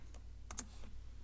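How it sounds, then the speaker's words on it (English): A few quick keystrokes on a computer keyboard as a command is typed, soft close clicks in a brief burst against a quiet background hum. "now I can come back over to my command window and I can type in npm"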